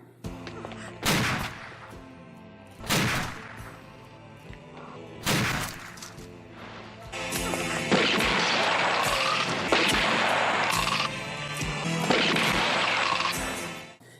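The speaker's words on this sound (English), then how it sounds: "during the end zombie shootout, David Warbeck's gun sounds more like a pop gun in this" Gunshot sound effects from the closing zombie shootout in a Lucio Fulci zombie film, first a few separate loud bangs, then a dense, sustained burst of overlapping gunfire with music-like tones underneath.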